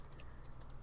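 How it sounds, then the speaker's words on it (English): Faint clicking keystrokes from a computer keyboard come in quick irregular bursts, picked up through an online voice chat during a tabletop game session, with no talk. "you might want to mute yourself when you're typing"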